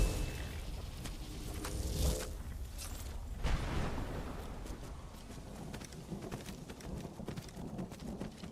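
Hoofbeats of Arvak, a horse in the video game Genshin, clopping steadily and fairly close over a constant backdrop of rain and rumbling thunder, with a couple of louder thuds along the way.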